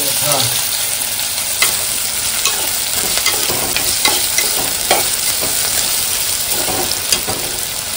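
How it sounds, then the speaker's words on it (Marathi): Onion frying in a pan for Malvani prawn rice, loud continuous sizzling close up with repeated scraping stirs of a spatula punctuating the hiss, no voices. "कांदो मस्त काळपट करून भाजायचं."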